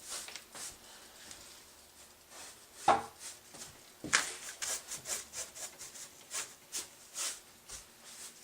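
Brushing sanding powder off an acrylic pour surface: faint, close rubbing strokes repeating in a loose rhythm, with a couple of sharper light knocks and no talking.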